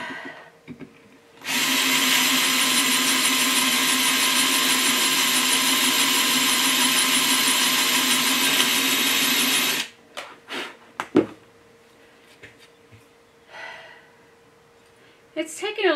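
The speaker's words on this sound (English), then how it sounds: "It's kind of boring watching me drill, huh?" A high-pitched power drill whirs steadily for about eight seconds drilling through an oyster shell, then stops, followed by faint clicks and light handling noises.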